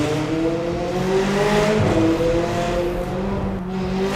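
McLaren 600LT Spider supercar engine droning loud and close, a rising, harmonic-rich tone that climbs in pitch as the car accelerates, steady and without speech.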